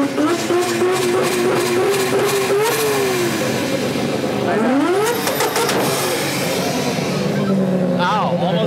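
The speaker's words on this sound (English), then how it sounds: "Colette sitting her car on limiter while we were telling her to shut it off" Ford EcoBoost Fox-Body Mustang engine held on the rev limiter, a loud, close buzzing drone with pitch bouncing and sweeping as the throttle chatters, voices talking and shouting over it throughout.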